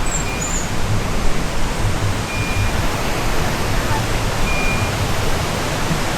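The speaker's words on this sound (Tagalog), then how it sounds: "Ayun yung falls." Rushing water from the waterfall at the 1909 Wawa Dam in Montalban, Rizal pours as a dense, steady roar, loud and continuous with no breaks.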